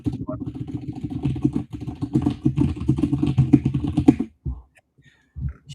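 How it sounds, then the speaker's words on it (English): Rapid typing on a mechanical computer keyboard makes a dense, close clatter of keystrokes for about four seconds. A short pause follows, then a few scattered clicks. "It's because of the mechanical keyboard."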